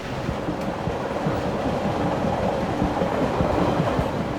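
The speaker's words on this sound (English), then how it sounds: "Via Rail's supercontinental passenger train number 4 is cruising toward Edmonton, Alberta." Via Rail's Supercontinental passenger train number 4 runs through the Canadian Rockies toward Edmonton, Alberta, its wheels giving a steady close rumble with faint rhythmic clacking over the rails.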